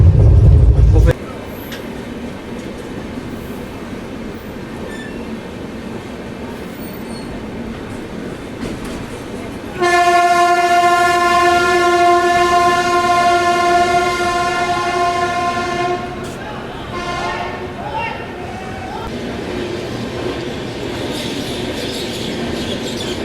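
The Howrah Rajdhani Express passenger train rumbles loudly and steadily from on board, and midway a long, strong horn blast with layered harmonic tones sounds for several seconds before easing back into the running rumble.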